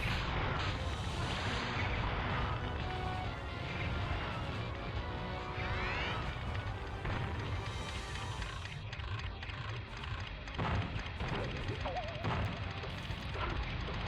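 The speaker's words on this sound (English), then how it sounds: "this controls as well as any other cannon in the game" Cannon fire in the video game Gex 3: Deep Cover Gecko, a dense run of loud booming blasts and crashes over continuous game noise, with someone talking throughout.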